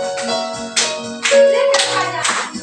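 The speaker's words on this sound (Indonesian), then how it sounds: "Tepuk tangannya, oke?" Rhythmic hand clapping along with a children's Sunday school song in an Indonesian church class, with loud bursts of claps in a steady beat under sung or voiced tones.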